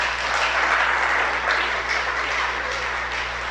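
Steady applause from a congregation at a Shabbat sermon, even and sustained over a low constant hum, without talk.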